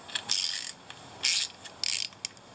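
Three short bursts of rattling, ratcheting clicks come from the bed-height adjustment on a Dremel Saw-Max handheld mini circular saw, each burst lasting under half a second, fairly close with quiet gaps between.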